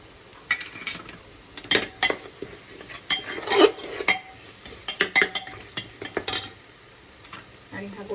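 Ground spices such as red chilli powder, turmeric and goda masala sautéed for masala rice, a spoon scraping and clacking around the pan in irregular bursts over a soft frying sizzle, close by.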